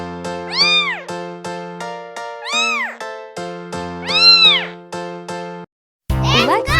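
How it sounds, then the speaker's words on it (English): A cartoon-style cat meows three times in rising-and-falling calls over a steady musical backing, followed by a brief burst of different sound at the end. "Cute cat."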